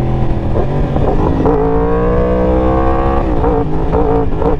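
A Kawasaki H2 motorcycle engine while riding in Los Angeles traffic, a loud steady close drone with layered harmonic tones and a dip in pitch midway, no voices.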